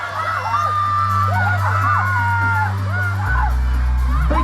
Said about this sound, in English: Big loads of cheer